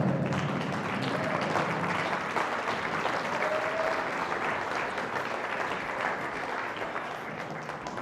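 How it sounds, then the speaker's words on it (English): A workshop audience stands and applauds, a sustained, even wash of clapping from a roomful of people that continues for the whole stretch. "give yourself a round of applause for being here"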